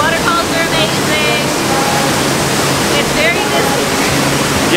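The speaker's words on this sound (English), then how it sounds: "Waterfalls are amazing." A waterfall in a gorge, at Niagara in New York, roars as a loud, steady wash of broadband rushing water that fills the whole stretch, with faint voices partly buried beneath it.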